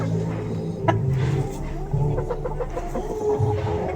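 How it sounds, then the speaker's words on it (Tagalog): Chickens, several plump red birds with colds, cluck and murmur close by in short repeated bursts, with soft scuffling around them and no talk. "May sisipon itong mga manok."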